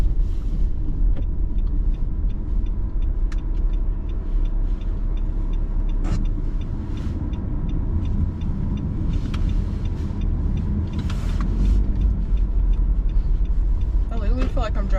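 Car driving on a road during a food delivery shift: a steady low rumble of engine and tires throughout, with a few brief knocks and clicks, heard from inside the car.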